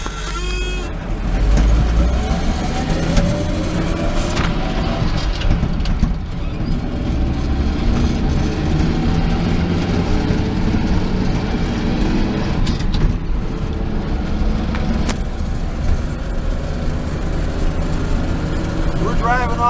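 A car cruising southbound on the original century-old stretch of US Route 99 through the town of Edgewood, with a steady engine and road rumble throughout, under continuous talk.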